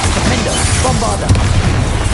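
A Bombarda spell explodes during a Hogwarts Legacy duel, a short booming burst near the middle of a dense, noisy battle soundscape, with voice-like sounds mixed in.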